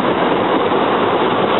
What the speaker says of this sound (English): We got another Sutter train going by North Wales here.